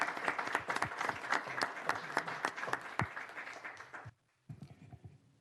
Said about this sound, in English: I'm going to ask you to give a round of applause for this brave lady.